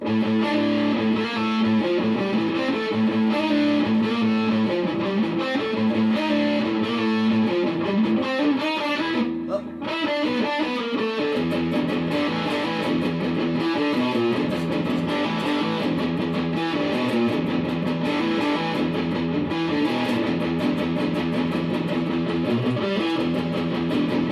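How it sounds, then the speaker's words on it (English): Heavily distorted electric guitar plays dense, continuous riffs through an Orange Crush CR120C 2x12 combo amp, loud and saturated throughout, with a brief dip near the middle. "Distortion's really good in it right out the gate."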